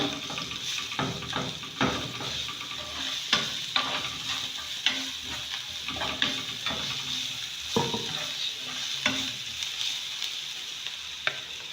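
Onions, garlic and ginger sizzle steadily in a pan for meat pie filling while a spoon stirs and scrapes with repeated close knocks against the pan.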